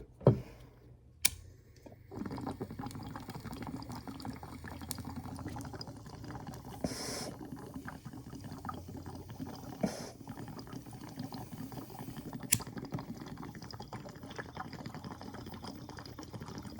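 Bong water bubbling and gurgling softly while cannabis is smoked from a packed bowl, a low continuous burble with a few sharp clicks, fairly faint and without talk.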